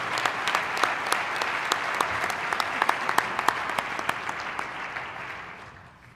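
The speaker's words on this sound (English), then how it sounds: "another round of applause for our 5 finalists" An audience at an awards ceremony in a Phoenix banquet hall gives a round of applause, many hands clapping with some sharp individual claps standing out, sustained and then gradually tapering off near the end.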